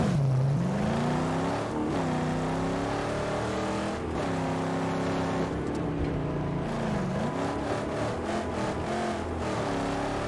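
In the Mad Max video game, a car drives off-road with a loud, continuous engine drone that revs up and down across the whole stretch.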